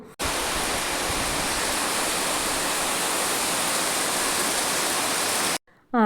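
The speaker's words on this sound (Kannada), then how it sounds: "ಇದ್ದಕ್ಕಿದ್ದಂಗೆ ಸಡನ್ನಾಗಿ ಮಳೆ ಬಂತು ಅಂದರೆ ಅಷ್ಟು ಜೋರು ಮಳೆ ಬಂದುಬಿಡ್ತು" Heavy rain pours down in a dense, steady roar that stays constant and loud throughout, with no breaks and no voices.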